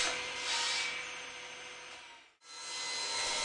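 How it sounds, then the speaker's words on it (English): Wooden apron rails for a table are sawn to length: a steady, rasping cut runs for about two seconds, breaks off into a brief silence, then a second sustained cutting stroke resumes close by. "Next I cut my apron rails to the exact length that I need"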